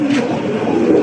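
A male racing pigeon coos loudly and steadily in a sustained, throaty call, close by, with no talk over it.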